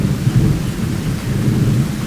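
Deep thunder rumbles through a rainstorm over a chicken homestead, a loud, low rolling boom layered over steady rain with no talking.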